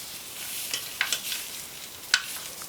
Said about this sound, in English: Okay, I've just about browned my Italian sausage.